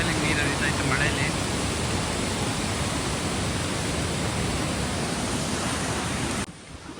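Heavy rain pours outdoors at Gokarna, a dense, continuous hiss that stays loud and unbroken, with a faint voice briefly at the start before the roar cuts away near the end.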